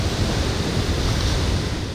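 Loud sea waves break against the shore near a seaside shrine, eroding walls and exposing rocks; a dense, continuous roar of surf fills the whole stretch with no voices.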